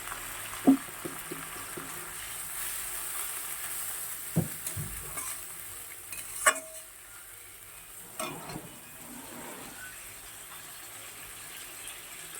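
Ginger-cumin paste sizzles steadily in a pan, broken by a few sharp scrapes and knocks of a spoon stirring it, fairly quiet with no talking.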